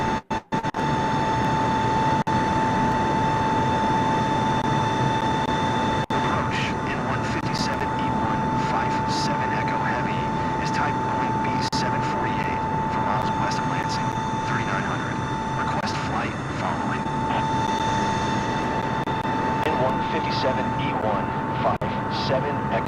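A large airliner's engines drone steadily in Microsoft Flight Simulator 2024, a loud continuous roar with a steady whine running through it and occasional clicks.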